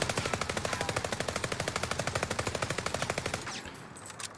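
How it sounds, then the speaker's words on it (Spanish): Whitley submachine gun in Call of Duty: Warzone firing a rapid, steady full-auto burst of about thirty loud shots lasting over three seconds, then stopping abruptly with a brief clattering tail. "Vamos a disparar sin controlarlo."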